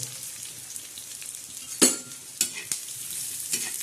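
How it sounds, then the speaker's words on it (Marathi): Coriander seeds dry-roasting and being stirred in a pan, a soft steady sizzle and rustle with a few sharp scraping clinks of the spoon against the metal, close and alone. "ते असे चांगले खरपूस भाजायचे धने"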